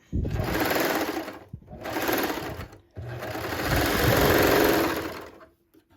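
Sewing machine stitching the side seam of a striped shirt, running in three close, steady bursts with brief pauses between, loud and near with no talking.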